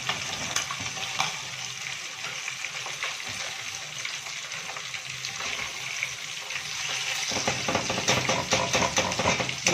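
Catfish pieces fry in hot oil in a pan with a steady, crackling sizzle and spattering pops. The sizzle grows somewhat busier and louder toward the end, with no voices over it.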